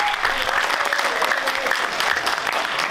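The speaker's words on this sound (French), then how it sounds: "Sous vos applaudissements s'il vous plaît." A roomful of people applauds at a book signing for a fifth book in a conference hall, sustained and fairly loud clapping with a faint voice or two underneath.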